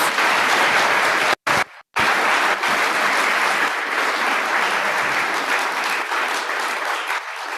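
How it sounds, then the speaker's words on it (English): Audience applause after senior speeches fills the room as a dense, sustained burst of clapping, broken by two brief dropouts near the start before continuing evenly to the end. "Let's give them another round of applause"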